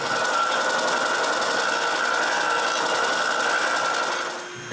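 A wooden cryptex piece has its corners rounded on a power tool, giving a loud, continuous whirring and grinding hum that runs steadily before easing off at the end, with no speech.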